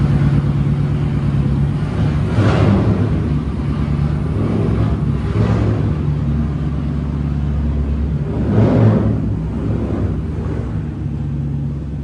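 Drift car with the rear bumper and over fenders removed, its engine running with a steady, loud low rumble and a few slight swells in revs. No talking.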